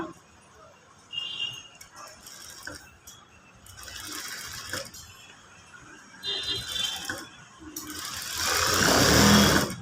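Sewing machine stitching a work blouse in short mechanical bursts, a whirring, rattling run that stops and starts, growing louder and longer near the end, with a person talking between the runs.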